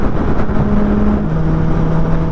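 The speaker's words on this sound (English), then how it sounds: "I'm racing this car." Motor vehicle on a Kenyan road during a big group ride toward the ICD, a loud continuous engine drone with a steady tone that dips slightly in pitch midway, heavy road and wind rumble throughout, no talk.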